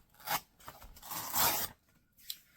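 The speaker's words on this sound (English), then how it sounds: "So I'll continue to cut through the book" Scissors cutting through the pages of a book for a folded-book floral centerpiece, several papery snips and longer slicing strokes, close and alone, ending with a short final cut.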